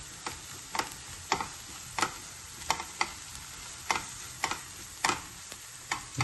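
Ginger garlic paste frying in a pan for an egg dish makes a soft sizzle, with regular sharp scrapes of a spoon stirring about once every half second.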